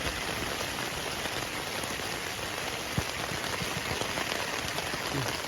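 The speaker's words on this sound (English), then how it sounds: "you can hear the rain pouring down." Heavy rain pours steadily onto a tent in the Arctic wilderness, a dense, even hiss of countless drops drumming close by with no break, calm and unvarying throughout.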